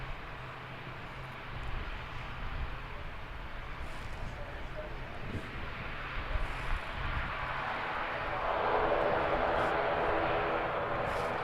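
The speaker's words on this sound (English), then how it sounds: "So the outbound ATR is heading off to Wellington" ATR turboprop airliner departing Christchurch Airport in New Zealand, its distant engine and propeller drone building steadily and growing louder toward the end, with someone speaking over it.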